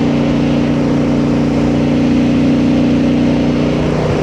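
A Honda Transalp 750 motorcycle engine drones loudly and continuously in sixth gear at about 3,500 rpm and 85 km/h on an incline, holding an even, low-pitched hum throughout with no speech over it.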